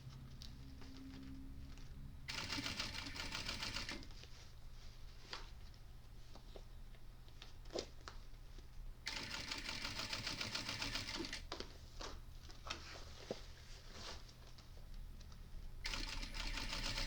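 A sewing machine stitches around a tote bag in fast whirring bursts, running for a couple of seconds, pausing, then running again in longer stretches, close and clear with no talking.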